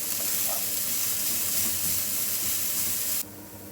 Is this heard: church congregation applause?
no